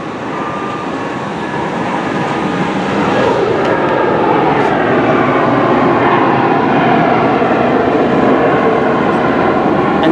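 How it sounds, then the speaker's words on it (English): A British Airways Airbus A320-200neo taking off, heard as a loud, steady broadband jet roar that swells after a couple of seconds and holds strong throughout. "there's another Airbus A320-200neo that's just took off"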